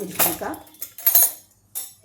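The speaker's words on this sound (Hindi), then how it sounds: "यहाँ पर मैं ये मिक्सर रखती हूँ" A mixer grinder jar is set down in a home kitchen while peri peri masala is being prepared. A few sharp clinks and knocks are heard, with someone speaking between them.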